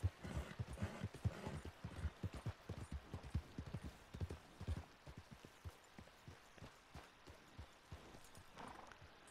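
Horse hooves clip-clop steadily at a trot in the Red Dead Redemption 2 video game, a fast run of sharp, fairly close hoofbeats that gradually slows and softens toward the end.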